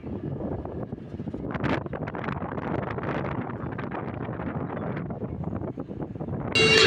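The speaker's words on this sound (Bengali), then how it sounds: "অনেক বাতাস।" Strong wind blows across an open park, roaring steadily against the microphone as a loud, continuous gusty rumble with a sharper burst at the very end.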